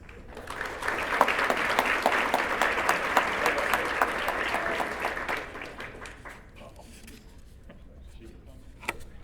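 Sustained audience applause fills a teacher awards banquet hall, dense and steady for several seconds before tapering into scattered claps near the end.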